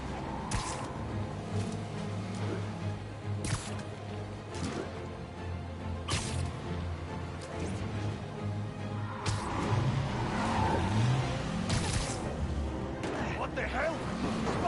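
Car engine revving and accelerating during a chase in the video game Spider-Man, steady motor drone with repeated sharp whooshing hits and bursts, loud and close throughout.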